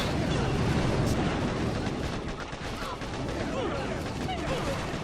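Doom Cannon fired in a video game, a dense, loud barrage of booming blasts and roaring rumble that runs without a break.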